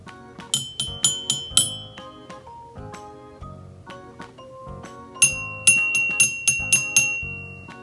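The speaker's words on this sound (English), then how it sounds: "Let's give the xylophone a try using this mallet." Bright metallic bars of a toy xylophone tapped with a mallet, first a quick run of high ringing notes, then slower single lower tones, then another rapid high run, each note ringing briefly.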